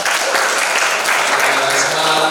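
Audience applause at a short-story writing workshop at Taman Budaya Yogyakarta, a loud, dense burst of clapping that holds steady from start to finish.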